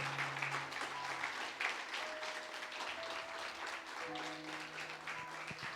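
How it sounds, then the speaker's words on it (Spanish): A church congregation claps steadily through a worship service, a dense, even wash of applause with faint sustained tones beneath. "Dale ese aplauso al que vive, al que reina."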